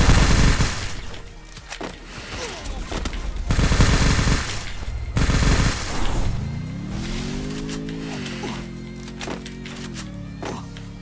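Bursts of rapid gunfire from a shooter video game, loud and close, with heavy volleys in the first five seconds, then a rising engine-like drone and scattered shots as a voice speaks faintly.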